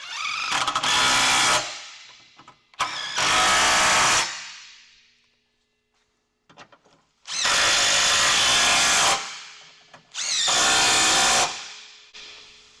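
A power tool fitted with a 17mm socket drives bolts into the rear bumper of a third-generation Tacoma pickup, with four loud, close whirring bursts of about one to two seconds each, separated by quiet gaps and faint clicks.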